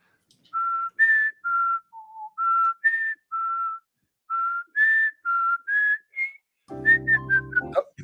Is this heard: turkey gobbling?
no